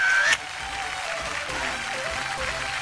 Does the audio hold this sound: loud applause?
yes